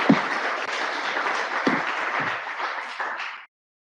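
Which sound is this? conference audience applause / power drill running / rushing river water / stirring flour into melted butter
conference audience applause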